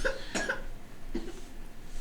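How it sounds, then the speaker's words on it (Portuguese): A couple of sharp coughs close by, a quick pair near the start and another single cough a moment later, with light background noise. "Ele tá tossindo"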